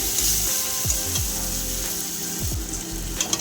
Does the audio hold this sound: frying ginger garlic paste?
yes